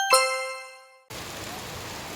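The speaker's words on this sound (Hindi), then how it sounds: "अभी बहुत ज़्यादा ही बारिश हो रही है।" Heavy rain in Ahmedabad pours as a steady, dense broadband hiss, opened by a brief bright chime that rings and fades just before the downpour noise takes over.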